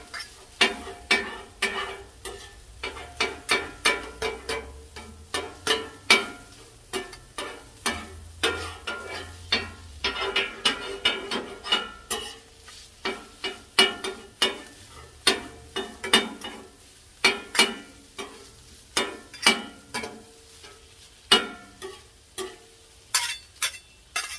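Bacon and other food browning on a flattop griddle at around medium heat, with dense rapid popping and crackling spatter that runs close and steady throughout.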